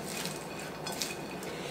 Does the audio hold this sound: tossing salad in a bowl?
yes